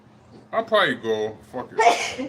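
A single sneeze bursts out indoors among casual conversation, with people talking before and after it.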